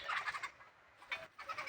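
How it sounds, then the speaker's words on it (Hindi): Birds in a village squabble and call in short, harsh bursts, two clusters of rapid chattering separated by a brief lull, fairly near and without any talking. "अरे राम चिड़िया देखा झगड़ा करता।"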